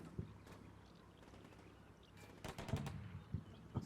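Gunfire comes from a wood in the tactical war game Combat Mission Black Sea. It is faint and distant, with scattered shots over a low rumble and then a quick rattling cluster of bursts near the end.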